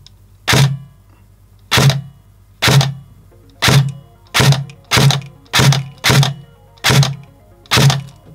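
An AceTech iTracer airsoft gun fires BBs: ten sharp, loud snapping shots at a steady pace of roughly one per second, close by and alone.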